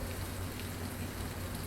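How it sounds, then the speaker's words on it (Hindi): Heavy rain pours down in a scene from the film The Wailing, a dense, even hiss lasting the whole moment, with no voices. "बारिश बहुत तेज है।"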